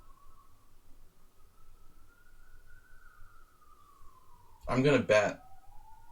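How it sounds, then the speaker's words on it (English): An ambulance siren wails faintly from outside in a long, slowly rising and falling tone that lasts several seconds, and a voice briefly cuts in over it near the end. "There comes the ambulance now."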